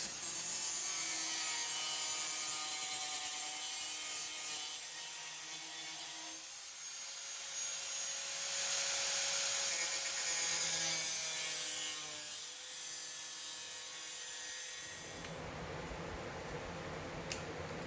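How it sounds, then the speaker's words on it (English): Spot weld remover drill bit grinding out spot welds on a rusted car body panel during rust repair, a steady continuous abrasive whine with shifting pitch, loud and close throughout, alone without talk. "I'm using a spot weld remover drill bit to drill out some of the spot welds attaching the back piece"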